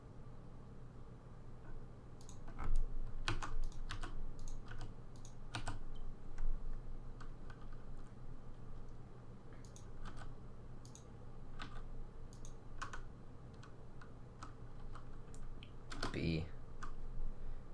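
A computer keyboard clatters in bursts of quick, close keystrokes as keys are rebound during a Risk of Rain session, with sparse clicks between runs and occasional talk over the typing.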